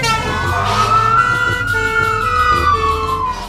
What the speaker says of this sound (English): Look, there comes an ambulance.